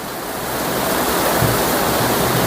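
Heavy rain pours down in a steady, dense roar of broadband hiss, growing slightly louder and continuing without a break, with no voices.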